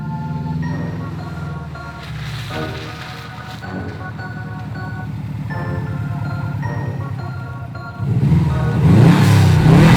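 A Subaru Impreza WRX rally school car drives a lap of a snowy loop with soft snow and mud, its engine droning steadily and close throughout, then revving harder and louder near the end.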